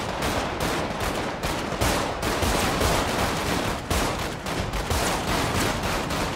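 Rapid gunfire from a Desert Eagle pistol in the video game GTA 5 roleplay, dense repeated shots crackling loudly and continuously with barely a pause.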